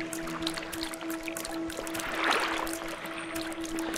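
Footsteps splashing across water in the video game SCARF, a run of light, close watery slaps and trickling patters over a faint steady background tone, with no speech.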